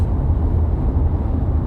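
A bus passes in street traffic, giving a brief, loud, continuous low rumble of engine and road noise with no breaks.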